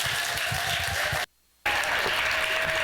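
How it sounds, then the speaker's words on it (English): Audience applause welcoming a speaker onto the stage at a corporate event, a thick wash of clapping that cuts out abruptly for a moment of silence, then resumes just as full. "Big round of applause for our wonderful rock star,"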